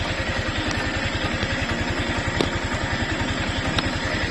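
A motorcycle engine runs steadily on a test ride, with a loud, close, even mechanical putter and a couple of faint clicks, and no talk.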